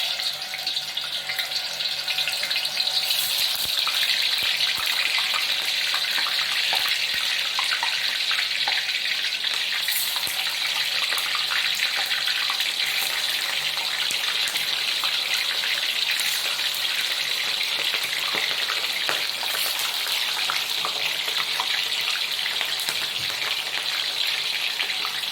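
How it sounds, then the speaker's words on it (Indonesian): Tofu frying in hot oil in a home kitchen, a steady bright sizzle and crackle that holds evenly throughout with no talk. "Selanjutnya kita goreng tahu"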